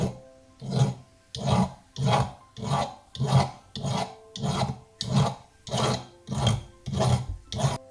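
Hand file rasping rhythmically across a small handmade jewellery necklace piece, about a dozen loud, close, even strokes back and forth with no voices.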